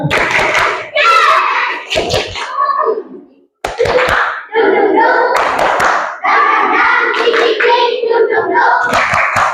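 A group of Indonesian schoolchildren chant "tepuk semangat" in unison while clapping sharply in rhythm, with a short pause before the clapping chant resumes.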